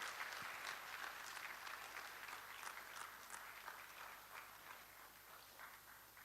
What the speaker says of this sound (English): Please, a stronger clap,